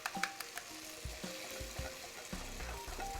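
Eggs hitting a hot pan crackle and sizzle steadily at close range, with scattered pops and light scraping knocks from stirring, and no voices.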